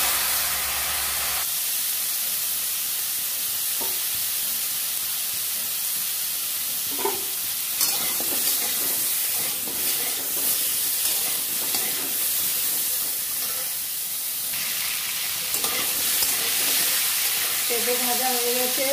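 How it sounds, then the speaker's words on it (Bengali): Papaya pieces frying in oil for a rohu fish curry, giving a steady close sizzle with occasional stirring and scraping clatter throughout, no talking. "পেঁপেগুলো ভেজে নেব।"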